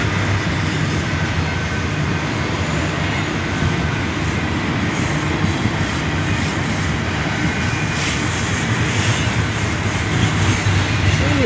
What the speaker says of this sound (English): So westbound container train. Single engine up front.